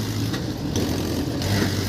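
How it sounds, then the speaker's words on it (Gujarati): Tractor engine revving under strain while being worked free after getting stuck at the roadside, a steady low rumble filling the short stretch alone with no talk. "આ બિટ્ટુભાઈ ટ્રેક્ટર કાઢવાની કોશિશ કરે છે"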